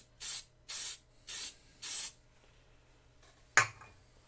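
Four short even spray bursts from an aerosol can hiss over super glue in quick rhythm, then a sharp single tap or click follows after a pause, close and fairly quiet.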